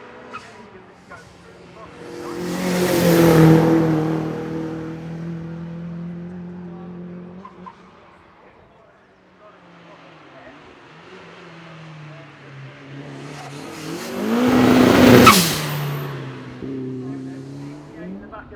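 A turbocharged race car drifts up the Shelsley Walsh hill climb, engine roaring in two loud passes that swell and fade with distant revving between, a commentator talking over it.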